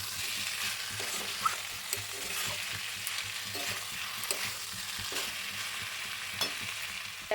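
Spice masala for egg curry frying in oil in a home kitchen, a steady close sizzle with occasional stirring scrapes and small pops, no talking.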